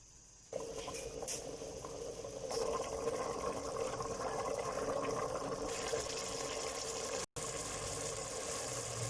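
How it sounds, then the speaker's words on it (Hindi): Water is poured into a cooking pot of rice and peas for matar pulao, a steady gushing splash that starts abruptly and runs continuously at moderate level, briefly cut once, with no voices. "3 गिलास के हिसाब से हम इसमें डालेंगे पानी 5 गिलास। चावलों के हम इस मिक्स करेंगे और इसमें पानी शामिल कर देंगे।"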